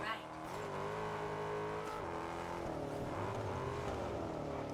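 A car engine hums and rises and falls through gear changes during an off-road race in Test Drive Unlimited, a steady droning motor sound with shifting pitch that continues without a break from start to finish.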